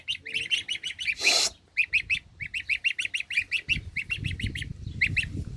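Geese and turkeys calling in a rural Turkish yard, a rapid run of sharp, repeated honking calls close by, with a short burst of noise and some low rumbling beneath.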